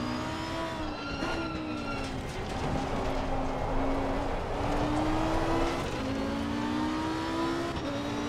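Race car engine in Assetto Corsa Competizione running steadily through a lap, harmonic drone rising and falling with shifts and throttle changes, loud and continuous with faint tire noise.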